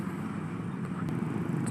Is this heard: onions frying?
no